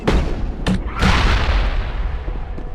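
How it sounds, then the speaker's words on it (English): Grenade explosions in the Mass Effect PC game, several loud booming blasts in quick succession, each with a long rumbling tail that fades slowly. "Grenades."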